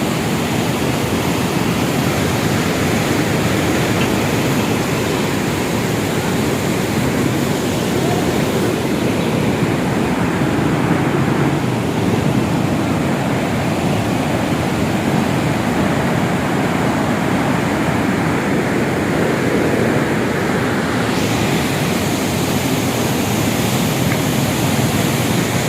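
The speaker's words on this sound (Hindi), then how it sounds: "पानी जिस तरह रवानगी से आ रहा है" Broad, steady roar of the Chenab river surging through the Head Marala headworks, a dense continuous rush of heavy water close by and loud throughout, with no voices.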